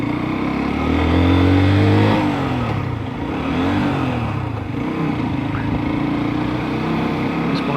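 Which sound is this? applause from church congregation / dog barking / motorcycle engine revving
motorcycle engine revving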